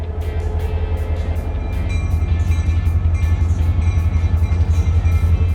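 A Great Smoky Mountains Railroad train in North Carolina rumbles steadily and loudly nearby, its heavy low drone continuous throughout with faint higher rattles and no talk.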